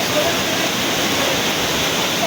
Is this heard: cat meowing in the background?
no